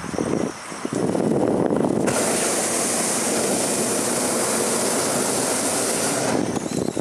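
A hot air balloon's gas burner fires with a loud, steady roaring blast that starts after a short lull and runs for about five seconds without pause, then cuts off near the end.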